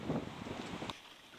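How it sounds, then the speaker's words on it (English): Strong wind by a river buffets the microphone with rumbling gusts, then eases into a softer, airy whoosh outdoors. "It's gotten quite windy"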